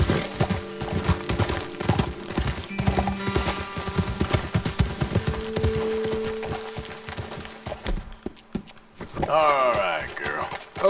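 Horse hooves clip-clop in a steady walking rhythm through Red Dead Redemption 2, close and fairly loud, with a rider's voice talking over them before the hoofbeats stop near the end.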